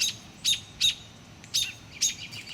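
Sharp, high bird chirps ring out about every half second, five or six insistent calls as a snake raids the nest, clear and fairly close over quiet background.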